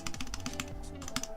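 Touch typing on a Neo Ergo mechanical keyboard with Zeal switches produces a quick, irregular stream of close, crisp keystroke clicks and clacks.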